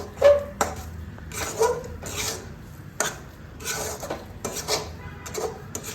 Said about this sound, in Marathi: आता हे ना मी छान फेटून तो म्हणण्यापेक्षा छान मिक्स करून घेते